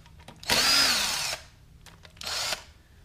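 Power tool spinning to loosen the 5/16 cam holder bolts on a Polaris 570 motor during a rebuild, two loud whirring bursts with a short pause between them, close by with no talking.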